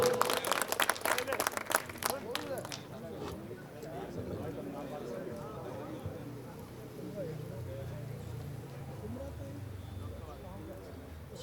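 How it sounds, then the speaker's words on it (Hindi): An audience at a Hindi comedy poetry recital gives loud applause as humorous poet Dr. R.P. Sharma is called up. A dense burst of clapping fills the first few seconds, then it quickly fades beneath someone speaking. "एक बार जोरदार ताली।"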